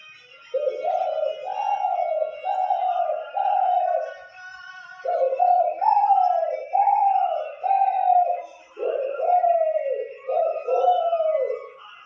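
A person imitates doves cooing, giving a steady run of soft, rounded coo phrases in groups, close up and without other sounds.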